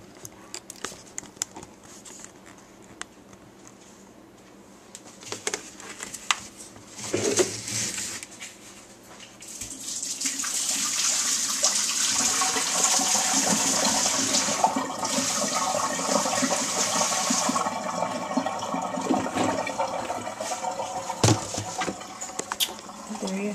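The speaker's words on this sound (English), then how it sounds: "I'm going to pour off the water." Water pours and gushes out of a cooler used to cook corn, a steady, splashing stream that builds after a few clattering knocks and continues loudly to the end.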